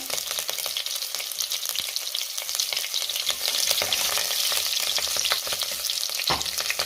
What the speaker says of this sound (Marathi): आता 1 मिनिटभर मी ही पेस्ट चांगली परतून घेते